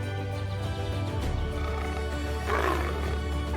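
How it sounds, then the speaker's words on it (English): On the Serengeti, lions clash with spotted hyenas, heard as a constant low rumbling roar with a louder growling, snarling burst toward the end, carrying over a dense wild background. "Lions clash with spotted hyenas, a rivalry that keeps the food chain taut"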